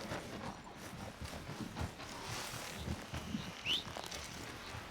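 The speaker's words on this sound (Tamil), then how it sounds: "வரமாட்டேங்குது குதிரை." Horse hooves clip-clopping in Red Dead Redemption 2, a steady uneven patter of footfalls over ambient game sound with a brief bird-like chirp near the end.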